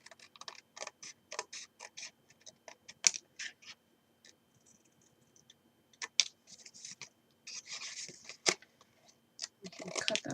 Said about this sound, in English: So cut up to the second score line of each of those.